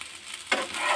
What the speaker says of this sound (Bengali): আরেকটু এটা ভালো করে নেড়ে নেব।